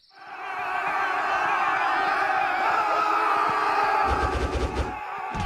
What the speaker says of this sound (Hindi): और भीड़ ने उसे पीट पीट कर मार डाला